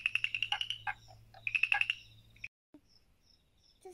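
Small frogs in a garden pond give rapid bursts of chirping croaks, two clustered trains of calls close by, then near silence with faint distant chirps and a low hum underneath early on.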